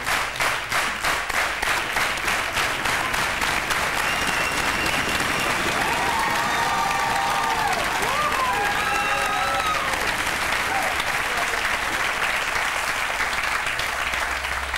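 Sustained studio audience applause on a 1995 French television talk show set, a dense steady wash of many hands clapping throughout, with faint voices and a cheer rising partway through.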